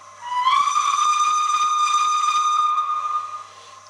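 Long sustained locomotive whistle from a Howells of Oxford DCC sound decoder on a model railway, a steady bright multi-tone note starting abruptly and holding for about three seconds before cutting off, clear and alone.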